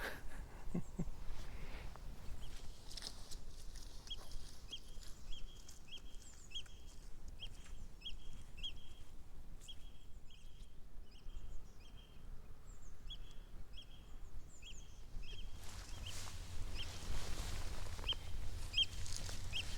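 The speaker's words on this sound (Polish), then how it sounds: "No i słychać, że ptaki są." Oystercatchers calling over a quiet bay, a run of sharp, evenly spaced piping notes repeating in the middle distance over a faint wind hiss, then thinning out before a brief rougher burst near the end.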